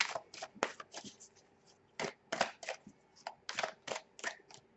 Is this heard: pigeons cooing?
no